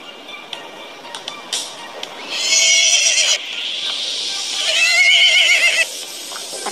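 Horse in a US police mobile shooting game whinnies loudly twice, long shrill neighs separated by a pause, with a few clicks and hoof-like knocks before them.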